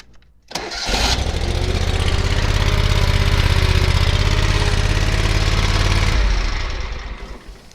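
A Toro 5xi 522xi lawn tractor engine cranks briefly, fires and runs at a loud, steady idle nearby for several seconds before the sound drops away at the end.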